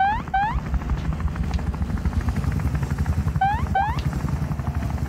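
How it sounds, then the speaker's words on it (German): A helicopter in the video game Wobbly Life drones with a steady, fast rotor chop throughout, near and loud, with a few short whistling chirps on top. "der Typ, der kommt mit dem Heli rein"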